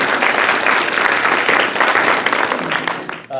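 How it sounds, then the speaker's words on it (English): Audience at a community workshop in a middle school breaking into loud applause, dense clapping sustained for a few seconds before thinning out at the end. "Round of applause for this group."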